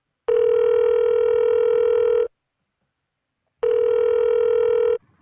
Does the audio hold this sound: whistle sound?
no